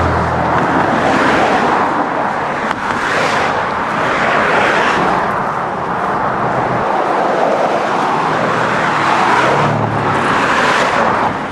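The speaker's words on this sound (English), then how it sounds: "I'm just going to be pretty much walking into these cars." Cars pass close by on a road beside a pedestrian walking toward the bins, a loud continuous traffic roar that swells and recedes as several vehicles go by, with no talking.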